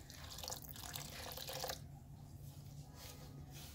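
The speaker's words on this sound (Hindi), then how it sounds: "अब मैं इसके अंदर थोड़ा थोड़ा पानी डालूंगी" Water trickles little by little into a bowl of dry pani puri dough ingredients, a close, steady splashing pour that stops partway through, leaving a quieter wet background.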